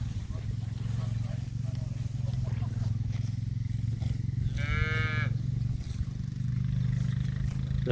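Cattle on a farm out in the field give one clear drawn-out moo in the middle, over a continuous low rumble and background noise, with a person speaking faintly at times.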